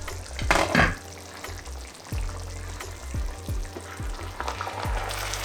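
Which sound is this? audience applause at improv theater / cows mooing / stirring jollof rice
stirring jollof rice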